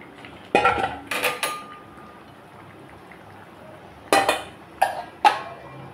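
A metal lid lifted and set back on a cooking pot of Bengali rui fish curry with cauliflower and potatoes, giving a few sharp clanks and clinks in two bursts, close by over a quiet kitchen background.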